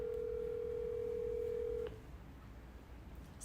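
An unanswered telephone call rings back as a single steady electronic tone held for about two seconds, then cuts off into a quiet room hush.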